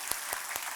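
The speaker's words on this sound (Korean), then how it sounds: "우리 한번 뜨거운 축복의 박수 환영하겠습니다" Applause from a church congregation welcoming a group of young guest singers, a brief steady patter of clapping with no voices over it.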